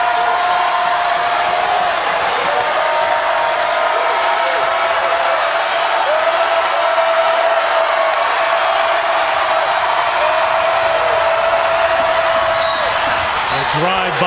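A sellout college basketball crowd at a Nevada versus Loyola Chicago men's game fills the arena with a steady, loud roar of cheering and squeaking sneakers throughout, while a commentator speaks over it.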